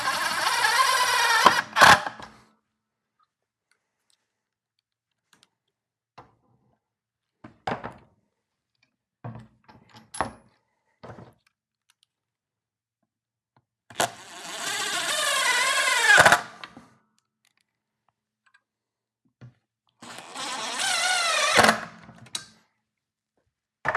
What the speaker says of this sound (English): and a drill. Start in the back. These are self-tapping screws, which is nice.